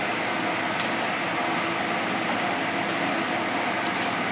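A small DC motor fitted with only a single magnet spins at about 4000 RPM, giving a steady, even whir that holds constant from start to finish at close range, with no voices over it.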